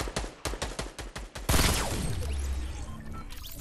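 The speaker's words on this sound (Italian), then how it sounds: "Stavo sparando a qualcuno" A rapid string of about nine loud, evenly spaced gunshots from Fortnite ends in a heavy crash, followed by a long rumbling decay.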